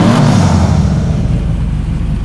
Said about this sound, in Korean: 그렇다면 제가 엔진 소리 한번 들어볼게요.